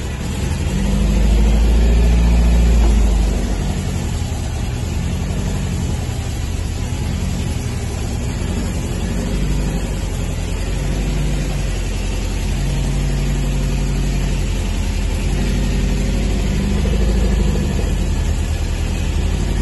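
Sunbeam Venezia Superleggera by Carrozzeria Touring, a car needing work, driven for the first time: its engine runs steadily and loudly with a deep low rumble that swells briefly early on, then holds a continuous drone throughout.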